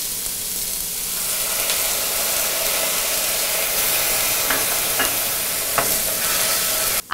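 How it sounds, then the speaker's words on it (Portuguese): Onion frying in olive oil with soy sauce gives a steady, fairly loud sizzle throughout, with a few faint stirring clicks and a sharp knock at the very end. "a gente vai fazer a nossa cebola no shoyu aqui do lado. Um pouquinho de azeite de oliva, cebola."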